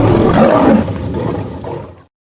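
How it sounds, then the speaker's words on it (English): A lion roars loud and close in one long, rough, growling burst that fades out after about two seconds, alone with no talk. "Over there, a lion looking for his tea."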